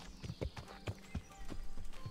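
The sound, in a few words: horse hooves clip-clopping, video game Kingdom Come: Deliverance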